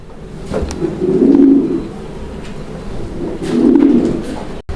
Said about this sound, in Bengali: এখানে চমৎকার আরও এক জোড়া কবুতরের কালেকশন রয়েছে